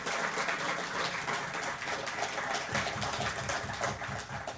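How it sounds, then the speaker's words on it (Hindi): Audience at the Swadesh Tourism Conclave 2022 applauding more strongly on a second request, a dense, sustained wash of clapping from many people filling the hall. "एक बार फिर से जोरदार तालियां।"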